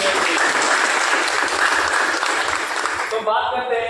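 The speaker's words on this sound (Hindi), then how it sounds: "तो उनके लिए सम्मान में हम जोरदार तालियां बजा सकते" Loud, dense applause from a seminar audience, many hands clapping continuously and close, dropping away abruptly near the end.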